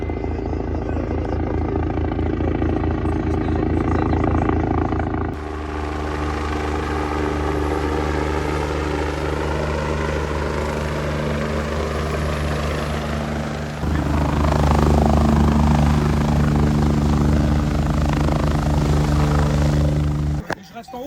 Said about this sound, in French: Plus près de l'hélico